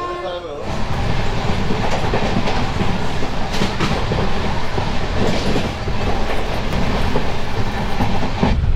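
Radhikapur Express passenger train pulling away after a two-minute station halt, a steady loud rumble with rhythmic clickety-clack of the wheels on the rails, heard from inside the carriage.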